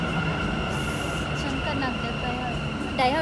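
A Namma Metro train in Bengaluru hums and rumbles close by as it arrives, with steady tonal whine, wheels faintly squealing, while a voice speaks briefly near the end.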